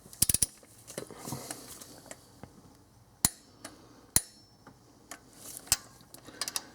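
A torque wrench gives sharp, isolated clicks while tightening the lower intake bolts on a 2001 Infiniti QX4 with 150,000 miles, the snaps spaced irregularly over quiet mechanical shuffling.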